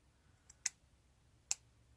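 Scissors snip close around fabric flowers for a fabric book, giving two sharp, crisp clicks about a second apart, close and fairly clear over quiet background.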